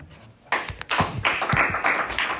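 Audience at a seminary talk breaking into clapping, a short burst of many hands applauding together, close and moderately loud after a quiet moment.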